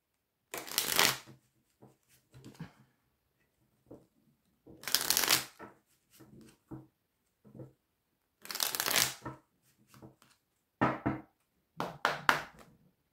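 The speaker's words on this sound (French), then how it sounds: "on va prendre deux ou trois cartes avec le petit oracle des âmes amoureuses" Oracle cards being shuffled by hand in several separate bursts, each a crisp riffling flutter lasting about a second, followed by softer taps and slides of the cards between bursts, close and with no talking.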